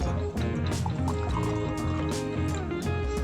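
Hot water poured for coffee, a continuous liquid splashing and trickling close by, mixed with a thick layer of loud karaoke music from next door in the background.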